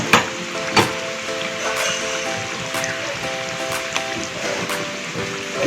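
Chicken achari cooks in a pan with a low, even sizzle, punctuated by a couple of stirring knocks near the start and light clinks, with a faint background hum running throughout.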